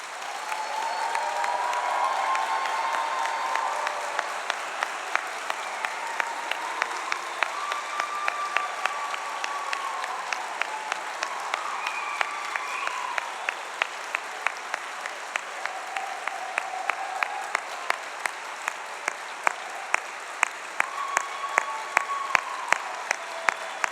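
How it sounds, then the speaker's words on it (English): Sustained applause from a large audience for graduates at a Manchester degree ceremony, steady dense clapping that lasts throughout with a few sharper individual claps standing out and faint voices underneath. "let's get one last massive round of applause for all these wonderful people"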